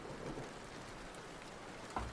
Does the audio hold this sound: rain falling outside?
yes